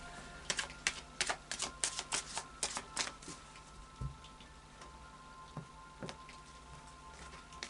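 Quick bursts of crisp oracle card flicks and riffles during shuffling, rapid at first, then thinning out into a few scattered soft taps against a quiet background.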